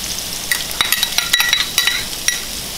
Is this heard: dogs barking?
no